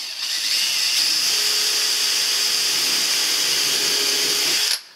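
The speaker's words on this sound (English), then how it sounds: "I'm going to be drilling into the cladding here" Power drill boring a 3mm pilot hole into wooden cladding on a camper van wall. It gives one steady, loud, close whine lasting about five seconds, then stops abruptly.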